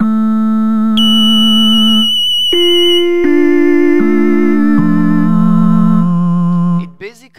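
Synthesized soundfont tones for the Super Mario Paint face sound effect, second version: a string of clean, loud, sustained pitched notes stepping between pitches, ending in a brief rising chirp.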